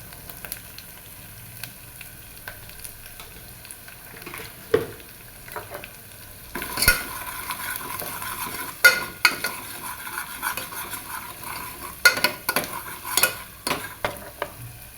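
Onions fry in a pot for a soup base, a quiet sizzle at first, then louder, irregular stirring with scraping and clanks of a spoon against metal over a steady hiss, no voices.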